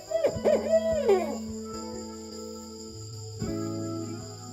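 An owl gives loud hooting calls with a few sliding notes, up close in a quiet night setting, followed by a softer steady tonal drone.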